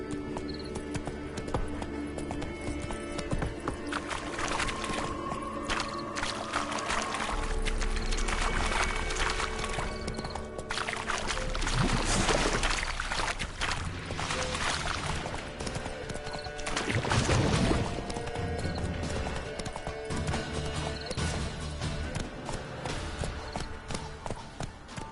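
The horse Roach gallops in The Witcher 3, its hooves beating a steady, close clip-clop rhythm throughout, with the rider's brief exclamations and occasional swells of wind and movement.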